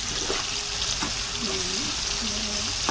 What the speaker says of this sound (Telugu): బ్రౌన్ కలర్ వచ్చే వరకు ఇలాగ చేపలు ఫ్రై వేసుకున్నాక